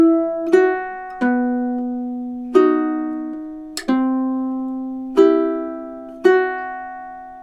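Ukulele picking two measures of a melody, about seven plucked notes spaced evenly and each left to ring and decay, close and clear with nothing else heard.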